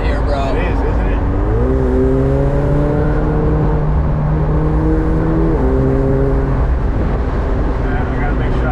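A 2021 McLaren 720S Spyder cruises along a main strip in Cape Coral, Florida, its engine droning loudly and steadily with rising and falling tones as gears change, heard from inside the car with road noise throughout.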